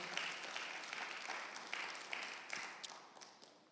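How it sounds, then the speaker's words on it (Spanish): A church congregation at a Thursday Bible study claps for the Lord, a quiet, scattered patter of hands with a few sharper individual claps standing out as it tapers. "Démosle un aplauso al Señor"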